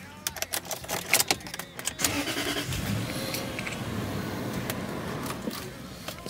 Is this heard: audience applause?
no